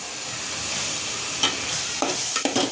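Chillies, turmeric and curry leaves frying in hot oil for a village-style egg curry: a steady, loud sizzle with a few sharp stirring scrapes near the end, no voices.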